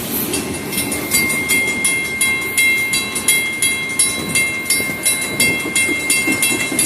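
A long FEC freight train rolls past up close and loud, with a continuous heavy rumble and rhythmic clickety-clack of wheels over rail joints, and faint metallic squeal on top.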